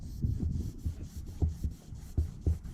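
A rag rubbing caulking residue off a boat window, close and muffled, in quick repeated low strokes with an uneven rhythm, about ten rubs in under three seconds.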